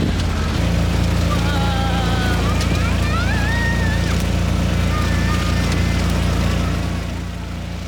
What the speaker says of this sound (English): we found ourselves taking a random taxi instead